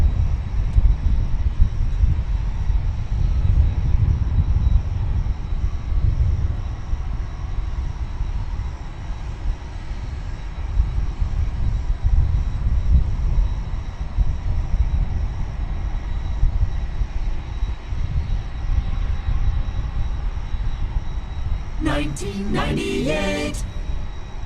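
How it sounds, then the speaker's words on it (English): A big tri-jet airliner at DFW Airport, heard as a sustained, loud, broadband engine roar that swells and eases slightly over a long stretch, with brief chirpy radio-like bursts near the end. "And here comes the big tri-jet with its cool sounds"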